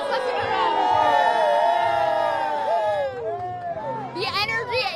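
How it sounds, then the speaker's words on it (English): Excited Eagles fans at Mr. G's celebrate a Super Bowl win, a loud crowd of voices shouting and whooping together, rising and falling throughout. "Hundreds and hundreds of fans have been here cheering on their team all night long."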